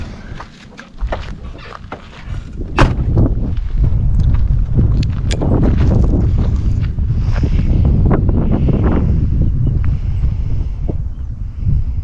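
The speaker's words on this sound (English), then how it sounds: "I forgot to mention, it is kind of windy." Strong wind buffets the microphone with a loud, continuous low rumble and gusty roar, growing heavier after the first couple of seconds.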